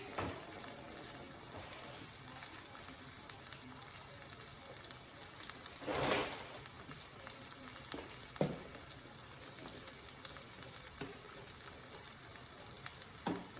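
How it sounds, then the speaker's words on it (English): Meat seasoned with Himalayan salt sears in a pan for tacos, giving a steady close sizzle throughout with a few brief scraping stirs and clatters. "We're going to let that sear."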